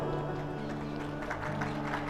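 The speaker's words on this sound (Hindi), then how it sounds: "ऐसी ताली बज रही" A dense, steady wash of applause from a large audience at a Shrimad Bhagwat Katha religious discourse, continuous and fairly loud without distinct individual claps.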